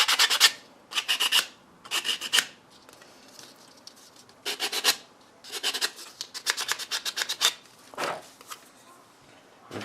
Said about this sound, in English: So I'm just going to quickly give it a quick sand.